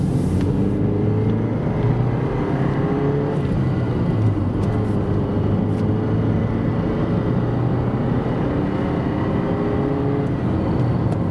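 A 1998 Honda Accord with a swapped-in five-speed manual pulls onto the freeway, its engine and road roar holding steady and loud inside the cabin for the whole stretch.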